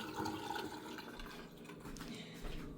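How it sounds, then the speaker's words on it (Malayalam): Faint, continuous gush of boiled water being poured out of a new kettle in one steady stream, hissing and splashing quietly without any voices. "തിളച്ച വെള്ളം ഞാനിത് ഷെയ്ക്ക് ചെയ്തെടുത്ത് കളയാൻ പോവാണ്"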